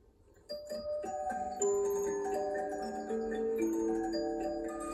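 A 98-tooth mandolin music box plays a soft, delicate melody of plucked metallic notes with a trembling, repeated-note shimmer, heard close and quiet on its own.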